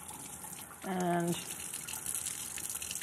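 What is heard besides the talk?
cold tap water running while rinsing a raw bird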